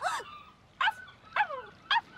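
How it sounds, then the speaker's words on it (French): A puppy whimpers and yips in short high-pitched bursts, four distinct cries spaced about half a second apart, close and clear with no talking. "Le nom de ce chiot n'est pas Pochi, mais Shooting Star."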